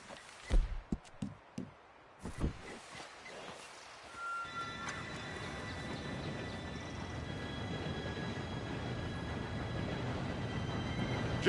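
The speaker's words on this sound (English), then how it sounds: "Train should be here any minute now." A train rolls in within the video game Red Dead Redemption 2, a few thumps and clatters first, then a steady rumbling wheel-and-rail roar with a faint whistle tone that holds loud and continuous to the end.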